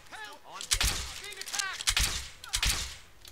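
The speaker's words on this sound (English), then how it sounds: "if you do it fast enough, you can see how fast these fire" In the Skyrim video game, a one-handed crossbow fires rapidly, giving a few sharp thumping releases mixed with someone talking over them.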